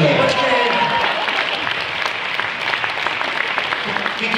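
Audience applause at a 60th birthday concert: dense, steady clapping from a large crowd filling the hall throughout, with a voice briefly heard over it.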